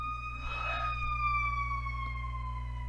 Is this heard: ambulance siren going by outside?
yes